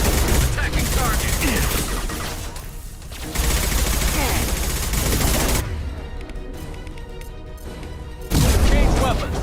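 Sustained bursts of gunfire in the sci-fi shooter Mass Effect 2, dense and loud with heavy impacts, briefly dropping before a louder burst near the end; in-game squad voices call out in the mix.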